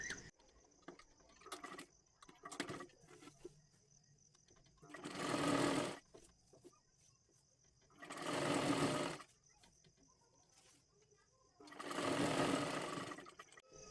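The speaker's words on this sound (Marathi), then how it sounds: "पुढेपर्यंत थोडीशी शिलाई मारत घ्यायचं आहे" Sewing machine stitching a lehenga dress made from a Kathpadar saree: three bursts of rapid whirring, each a second or two long, separated by quiet gaps with faint handling clicks, close up and with no talk.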